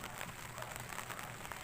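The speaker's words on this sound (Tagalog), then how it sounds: "naulan na rito. Nambol." Light drizzle falling at midday while waiting outdoors for racing pigeons to return home, a steady soft patter of rain with a constant low hiss throughout and no voices.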